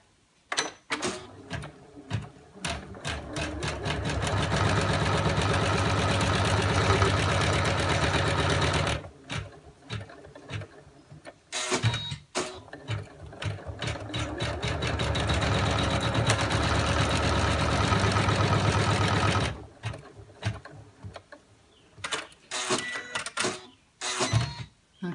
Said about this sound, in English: And then I'm going to sew the next step.